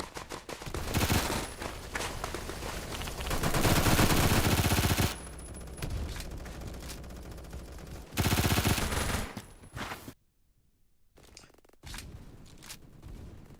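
Rapid gunfire in the Phantom Forces shooter game: dense automatic bursts and overlapping shots rattle loudly for several seconds, thin out to a few sharper reports, then briefly drop to near silence before quieter shots resume.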